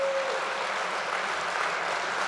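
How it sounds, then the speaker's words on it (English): An audience at a Convention of States rally in Iowa applauds steadily, a continuous wash of distant clapping at moderate loudness with no clear speech. "applaud me being wrong, please"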